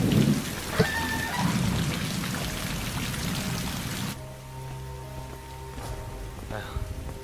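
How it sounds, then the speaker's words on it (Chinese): Heavy rain pours down near an old ruined temple with thunder rumbling, a dense steady hiss of falling water that drops to a softer patter partway through. "居然当真下雨了"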